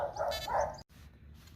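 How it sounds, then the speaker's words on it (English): A dog barks at a person outdoors during metal detecting, a couple of quick barks at moderate distance and modest volume, followed by a brief dropout and quiet background. "Too bad her dog is barking at me here."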